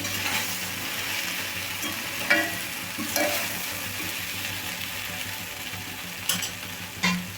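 Sliced okra frying in a pan, a steady close sizzle with occasional scraping knocks of a spatula as the pieces are stirred, no voices.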